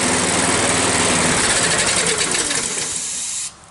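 A primed small engine catches and runs with a high, buzzing rattle for about three seconds, then abruptly cuts out and dies.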